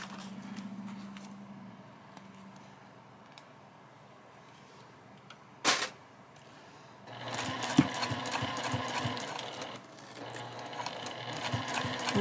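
A sewing machine stitching a zipper onto a bag runs in bursts, with quiet handling and a sharp click early on, then a steadier mechanical whirring for the last few seconds with small rattles.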